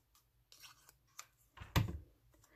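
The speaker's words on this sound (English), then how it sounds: "Then I'm going to take my scissors and come down here and trim the bottoms." Scissors trim the ribbon ends on a handmade cap-and-gown gatefold card, a few quiet close snips and rustles, the last cut the sharpest and loudest, in an otherwise hushed room.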